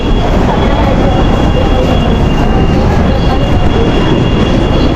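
Continuous rumble and rattle of an LRT light rail train, close and steady, with a faint high whine running through the whole stretch.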